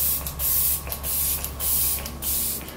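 Flower Beauty setting spray misting a face, four short fine hissing pump bursts evenly spaced, close and fairly loud with quiet pauses between.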